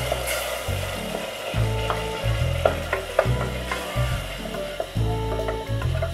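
Tomato paste and spices sizzle steadily in a pan for a lobia chaat, a continuous close frying hiss with scattered crackles and spatter pops, with a low tonal hum running underneath and no voices.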